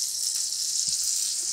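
Hot tempering with mustard seeds poured into coconut chutney, giving a steady sizzling hiss that stays close and even throughout, with no talking.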